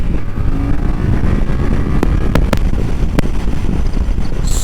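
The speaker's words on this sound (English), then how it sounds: "Accelerations." A 2024 Yamaha Tracer 7 motorcycle accelerates on an open road, its engine a loud low rumble heard under heavy rushing wind buffeting from a riding microphone, with a few brief clicks partway through.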